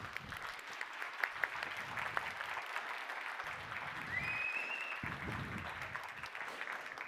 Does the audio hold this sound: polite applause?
yes